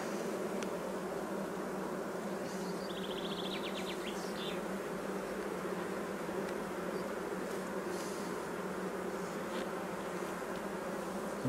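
Dense, steady buzzing of honey bees swarming over an open spring hive full of brood, loud and continuous throughout with no voices.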